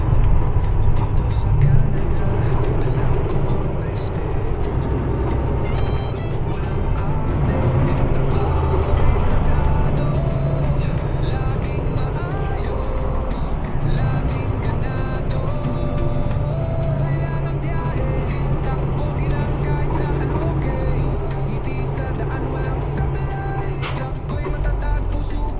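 Trucks idling at a rest area where many are parked for the night, with a steady low engine rumble filling the scene, a brief air-brake hiss and faint voices mixed in.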